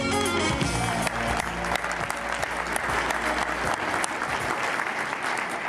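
Civitan convention audience applauds its district governors, broad sustained clapping layered over loud music, with a voice briefly audible, continuing throughout.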